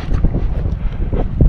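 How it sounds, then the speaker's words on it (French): Strong wind gusting outdoors on a mountainside in the French Pyrenees, a constant loud low rumble buffeting the microphone with no pause. "Il y a beaucoup de vent là, je sais pas si on entend encore."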